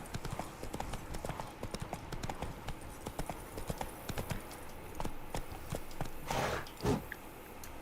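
Roach the horse galloping in The Witcher 3: Wild Hunt, a steady rapid clip-clop of hooves running close and continuous, with a short snort or whinny near the end and no talk.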